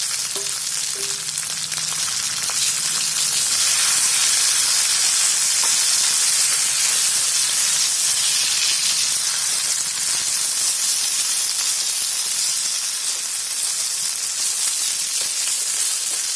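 Grated potatoes frying in ghee for a sweet potato halwa produce a loud, unbroken hissing sizzle that holds steady throughout, with faint stirring underneath.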